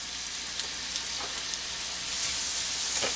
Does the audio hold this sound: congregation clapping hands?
no